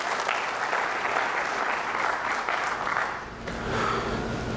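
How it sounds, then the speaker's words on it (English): A crowd at a city State of the City address gives a round of applause, steady dense clapping throughout with a brief dip before it swells again. "So give her a round of applause again, you guys."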